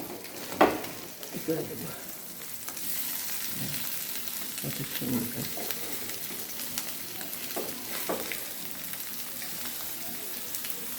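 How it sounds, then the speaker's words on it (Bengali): Faisa fish frying in a pan, a soft, even sizzle like light rain running throughout, broken by a few utensil knocks, and a voice speaks briefly over it. "মাছের এক সাইড আমার একেবারে সুন্দর ভাজা ভাজা হয়ে গেছে"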